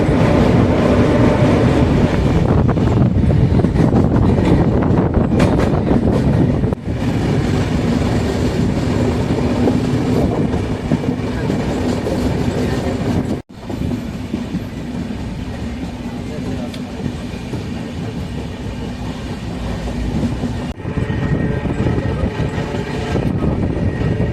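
The Mumbai Kurla Express rolls along at 50 to 60 km/h past a river after rain, a loud, continuous close rumble with rhythmic wheel clatter filling the whole stretch while a voice talks over it.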